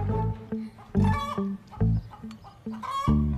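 A chicken clucks repeatedly in short, loud bursts, close to the listener, with brief pauses between calls and no talking.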